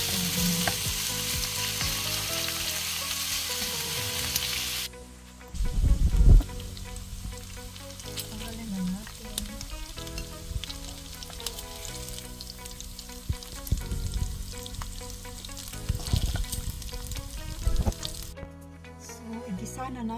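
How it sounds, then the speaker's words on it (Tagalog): Pork dropped into hot oil for a favourite Filipino dish, a constant loud sizzle and crackle with clattering utensils and bursts of spattering, while a person talks at times over the frying. "magpiprito na tayo"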